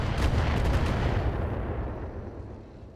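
Weapons fire on a Commando mech in the BattleTech game, a loud burst of rapid booming shots and rumbling blasts that fades into a lingering tail.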